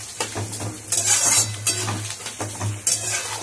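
Ginger paste is stirred with boiled jackfruit and potato in a hot pan: repeated rhythmic spatula scrapes and clinks against the metal over a low sizzle and a steady hum.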